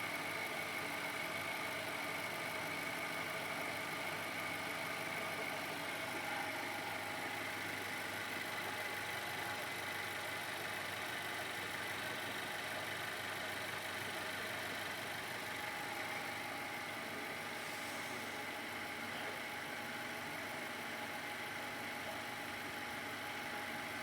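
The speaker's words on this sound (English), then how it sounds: "I can hear a kind of a tick, a high-pitched tick on this side." A 2011 Infiniti QX56 engine idles in a steady, even hum, heard near and alone, with its timing-chain tick not clearly standing out.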